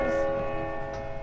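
A clock tower bell in Uncharted 4 rings with a sustained, resonant tone that hums steadily and decays slowly, with a faint second strike near the end.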